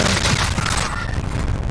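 An explosion in Call of Duty: Warzone booms loud and close with a dense, rumbling low end, then trails off into crackling gunfire-like bursts for under two seconds.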